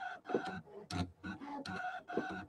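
A Brother ScanNCut machine cutting with its rotary blade makes a series of five or six short, whirring motor bursts separated by brief gaps, close and moderately loud.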